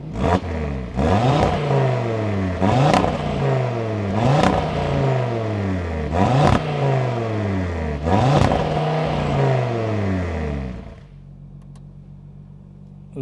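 2025 Audi RS3 engine at launch control, revving in five repeated bursts that bounce off a limiter, loud and close, then cutting back to a low idle near the end.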